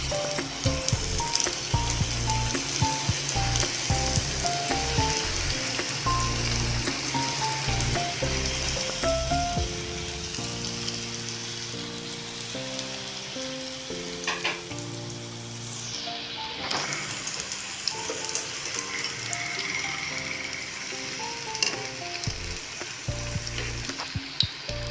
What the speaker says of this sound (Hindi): वॉन्टन। अब हम इसको फ्राई करके आपको दिखाते हैं